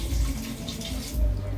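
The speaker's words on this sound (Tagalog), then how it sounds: "ngayon, lalagyan na natin siya ng suka" Vinegar pours in a steady trickle into a pot of fish heads for paksiw, a short liquid stream with some background noise.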